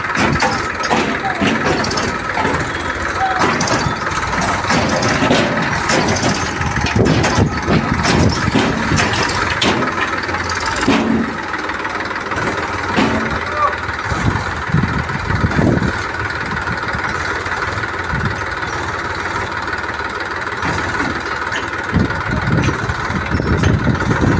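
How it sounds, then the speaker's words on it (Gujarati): Tractors hauling dirt to fill a pit on a Gujarat farm, giving a loud, steady diesel engine drone that runs without a break and sits close by, with faint voices now and then. "આજે અમારે અહીંયા ખાડો ભરાય છે એટલે ધૂળના ટ્રેક્ટરો હાલે છે"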